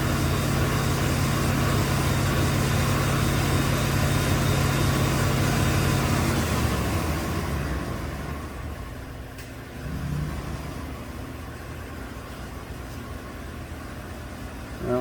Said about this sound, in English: Just going to let it idle down now.